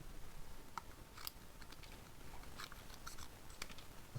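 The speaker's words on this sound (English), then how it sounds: "This is a big pair of scissors." Scissors on a Leatherman Juice XE6 multi-tool cutting, several quiet crisp snips spaced irregularly over low background hiss.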